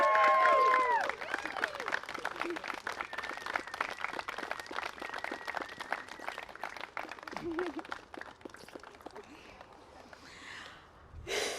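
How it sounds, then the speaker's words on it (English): Wedding guests at a ceremony applaud the newlyweds after the kiss, a dense crowd of clapping that starts loud and thins out, with murmuring voices and cheers mixed in. "If everyone can please give him a big round of applause."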